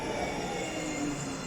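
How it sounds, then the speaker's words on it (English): Tram pulling in at the Basford NET stop in Nottingham, a steady broadband rumble and rolling hum of the tram close by, held at an even level throughout with no voices. "Meanwhile, we have another tram pulling in"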